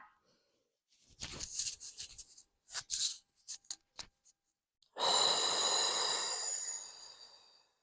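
During a Pilates posture exercise, a long, deep breath is drawn in close to the microphone as a steady rushing hiss that lasts nearly three seconds, following a few short breathy puffs and rustles.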